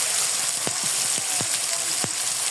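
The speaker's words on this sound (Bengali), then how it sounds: "আমি এটা ভালোভাবে এখন মশলাটা কষিয়ে নেব।" Ginger, garlic, cumin, onion, turmeric and chili powder fry in hot oil with a steady close sizzle, broken by a few sharp scraping stirs spaced about half a second apart.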